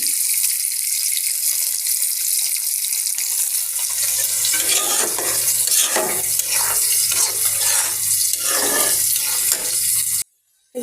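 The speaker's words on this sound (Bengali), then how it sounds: "এদিকে মাছ ভাজাটা বসায় দিচ্ছি" Fish frying in hot oil in a wok gives a steady, loud sizzle with a rising and falling hiss and bursts of stirring, then cuts off abruptly just before the end.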